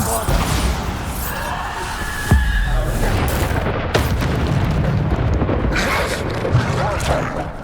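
Bombarda spell explosions in Hogwarts Legacy combat: loud booming blasts and crashes over continuous battle noise, with a sharp burst near the middle and a voice calling out between them.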